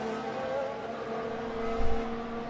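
Formula 1 cars lapping in practice at the São Paulo Grand Prix, a steady high-pitched engine whine with a low rumble swelling near the end as a car passes, no talk.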